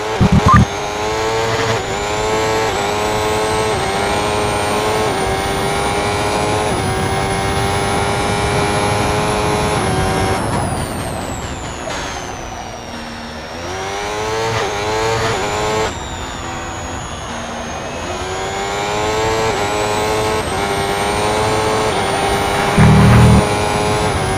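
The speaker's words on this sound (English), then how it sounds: "Fast the cars are coming, please let them by." Race cars in a racing video game roar past on track during qualifying, engines whining loud and steady, rising and falling in pitch as they pass.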